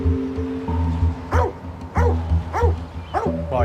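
A dog barks several times at moderate distance over a low steady hum, the yips spaced unevenly and partly whining, at a place where dogs are trained to fight in the English Midlands.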